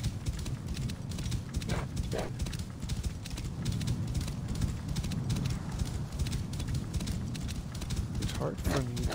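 Horse hooves in the game Assassin's Creed Origins: a continuous quick clip-clop of a galloping horse that a rider has called, with brief speech underneath and a short whinny-like tone near the end.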